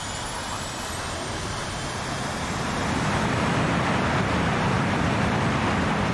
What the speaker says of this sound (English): The plane basically just flies itself during takeoff.